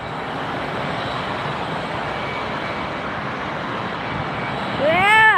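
A JetBlue Airbus A320 in Dunkin' Donuts livery roars at Tampa airport, a steady loud jet rumble that swells near the end as a voice cheers over it.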